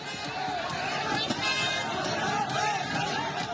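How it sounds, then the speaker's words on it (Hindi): Dense street crowd of flag-carrying protesters in uproar, a continuous loud hubbub of many voices with scattered shouts and sharp bangs throughout. "हजारों की तादाद में लोग झंडे लेकर सड़क पर हंगामा कर रहे हैं"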